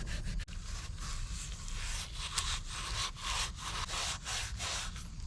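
Close, repeated rasping strokes of corrosion being scraped off a thermostat housing on a Honda Civic, a steady back-and-forth scrubbing rhythm with no talk.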